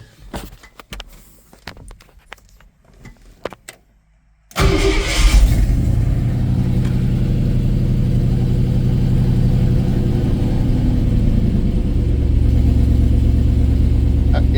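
A 1968 Ford F100 with a 302 V8 and Holley Sniper EFI is cranked, then catches with a loud start, settling into a steady, slightly raised idle that continues for about ten seconds.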